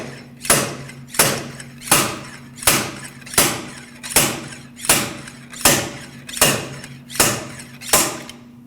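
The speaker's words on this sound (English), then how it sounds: "With the slide hammer, we can pull this bearing out." Eleven sharp metallic slide-hammer knocks pulling a rear axle bearing from a 2009-2010 Dodge Ram 1500 repeat at an even, steady pace, each a loud clack with a brief ring, close up and without talk.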